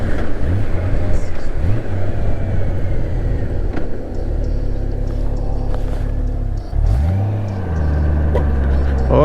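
Honda GL1800 Goldwing motorcycle cruising down Highway 401, a steady roar of engine, wind and road noise throughout, with a voice talking over it and a brief dip in the drone partway through.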